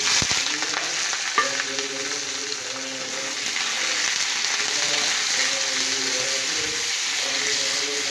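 Chopped onions frying in oil with ground cinnamon for a chicken liver curry, a steady close sizzle throughout, with faint intermittent tonal clinks from stirring.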